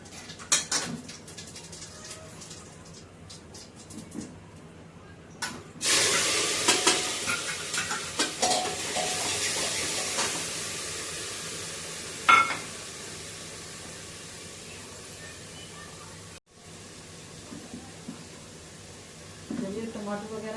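Cumin seeds drop into a hot pan for a home-cooked dish, bursting into a sudden loud sizzle that settles into a steady hiss, with occasional stirring scrapes and clinks.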